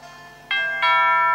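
Doorbell chime in the Pokémon Sword video game: two bright, loud tonal strikes in quick succession, ding then dong, each ringing on with clear harmonic tones.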